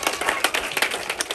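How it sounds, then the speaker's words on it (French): Applause for an artist at a photo exhibition opening, a crowd clapping steadily with dense overlapping claps throughout, fairly close and with no talk over it. "Je peux l'applaudir."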